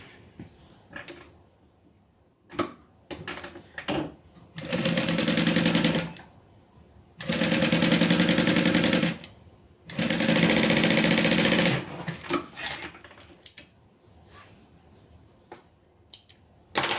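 A sewing machine stitches a zipper and an interior pocket in two long, loud runs of steady whirring, with quieter handling clicks and taps before, between and after them.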